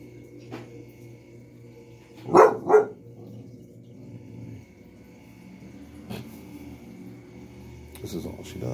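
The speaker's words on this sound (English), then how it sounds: "Responding to the barking." A dog gives two quick barks close by, with a quiet room and soft background sounds before and after.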